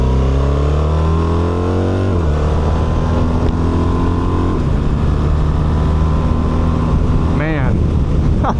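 A 2026 BMW R 1300 RT boxer twin motorcycle pulls hard at full throttle from low revs, its engine note climbing and shifting through gears, loud and close under heavy wind buffeting.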